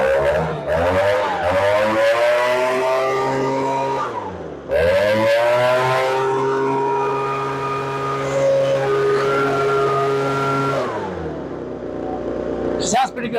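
A small two-stroke leaf blower or weed eater engine, just fitted with new fuel lines, starts up and revs repeatedly, climbing and falling in pitch with short drops between bursts, loud and close.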